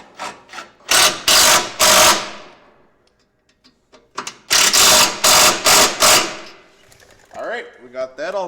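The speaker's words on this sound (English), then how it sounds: "Let's get the muffler bolts tightened up." A wrench ratchets on muffler bolts in two loud runs of quick, rhythmic clicking strokes separated by a short pause, with a voice speaking briefly at the end.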